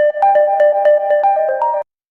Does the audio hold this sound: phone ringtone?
yes